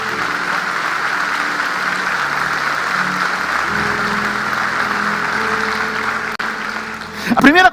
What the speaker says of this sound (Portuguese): dar um aplauso ao Senhor nessa noite